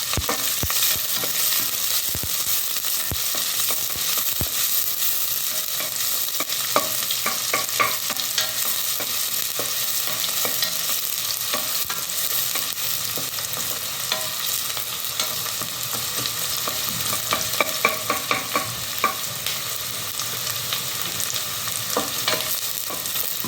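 Half a cup of onions sizzles steadily in hot oil in a pan, with repeated scraping and stirring strokes over a constant loud frying hiss.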